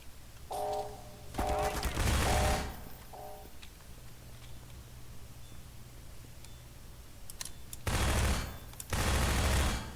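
Automated turrets in Half-Life 2 fire in two loud rattling bursts separated by a long stretch of low humming ambience, with a faint mechanical beeping near the start.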